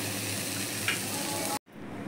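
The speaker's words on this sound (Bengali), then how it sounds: "সয়াবিন ভাজা হয়ে গেছে, এখন নামিয়ে ফেলবো" Soybean chunks frying in hot oil in a pan, a steady close sizzle that cuts off abruptly near the end.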